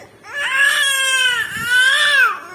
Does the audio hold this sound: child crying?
yes